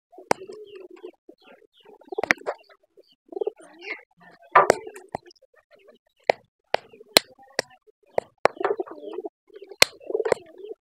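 Domestic pigeons cooing in short, low, throaty bursts, interspersed with sharp clicks and taps nearby, with brief silent gaps between calls.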